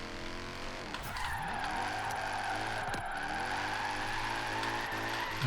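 Mercedes drift car in Forza Horizon 3 sliding through a drift section, its engine droning steadily loud while tires squeal in long sweeping screeches with brief gear shifts.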